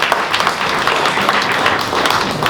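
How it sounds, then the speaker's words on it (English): An awards ceremony audience claps in a loud, dense burst of applause that stays even throughout the short stretch. "We can give him another round of applause."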